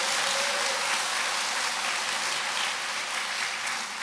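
A lecture audience applauds in a hall, a steady, dense wash of many hands that holds at an even level for several seconds, slightly distant, with no voices over it.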